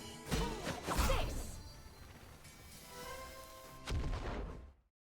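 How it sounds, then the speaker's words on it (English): A blast in the swashbuckling game En Garde hits with two sharp whooshing impacts up front, a lower rumbling stretch, then another loud burst before the sound cuts off abruptly. "At least I went out with an explosion."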